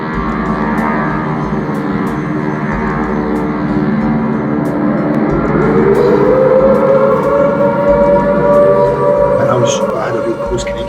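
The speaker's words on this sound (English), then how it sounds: "seeing the air raid siren and things, and everybody's running and diving on the ground" An air raid siren sounds in a stage play, a sustained droning tone that slowly rises in pitch, loud and steady over a dense background of rumbling noise.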